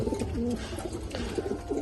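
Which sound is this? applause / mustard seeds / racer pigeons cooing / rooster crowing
racer pigeons cooing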